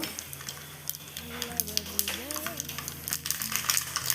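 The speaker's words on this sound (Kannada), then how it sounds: "ಸಾಸಿವೆ ಚೆನ್ನಾಗಿ ಪಟಪಟ ಹುಟ್ಟಬೇಕು" Mustard seeds crackle and pop in hot oil for a Mangalore-style cucumber huli, a dense stream of sharp spluttering with a voice talking softly beneath.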